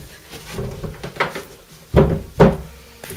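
A door handled on a short horror film set, with several wooden knocks and clunks, two of them loud and close, spaced irregularly with no talking.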